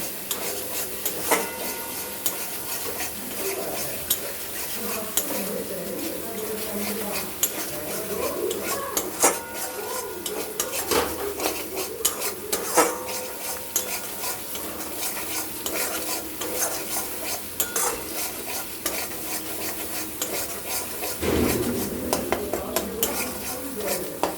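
Spice paste for a mustard-poppy-seed pabda fish curry sautéed in a pan, with a soft steady sizzle under repeated scraping and clinking of a metal spatula against the pan.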